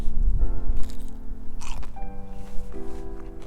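A bite into crispy Asian-style french fries topped with nori and a spicy fermented soybean aioli, followed by close, loud crunching and chewing with soft scraping, no talking.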